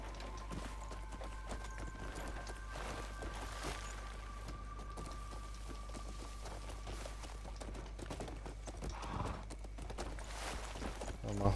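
Horse hooves gallop at a steady clip-clop across open desert in Crimson Desert, a continuous rhythmic patter at moderate distance under game music and ambience, with someone talking over it.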